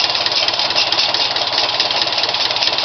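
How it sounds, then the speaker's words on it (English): A 1950 Farmall M tractor engine idles steadily up close with a rapid, even chugging and knocking beat, loud and alone for the whole stretch. "Starts right up every time."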